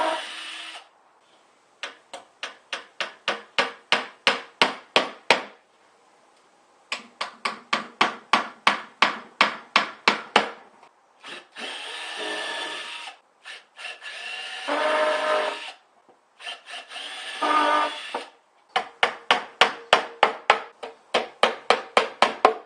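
Quick runs of sharp hammer blows drive basic 1 inch wire nails into a wooden solar panel case, each burst of about ten close, loud strikes separated by brief pauses and scraping or handling noise, with no talk.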